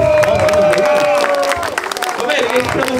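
A crowd at a Brazilian rap battle, Batalha da Arte, claps and cheers in a loud, dense wash of applause and shouting that fills the whole clip, with voices mixed into the noise.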